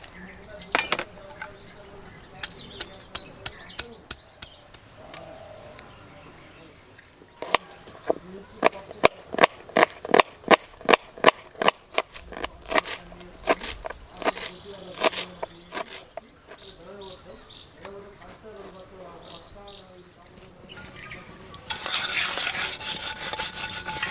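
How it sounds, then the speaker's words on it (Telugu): Onions are ground by hand for prawn curry, producing a fast run of rhythmic knocking and rubbing strokes that rise to a steady close-up pounding before giving way to louder scraping and rustling at the end. "ఇప్పుడు మనం ఉల్లిగడ్డలు నూరుకుందాం"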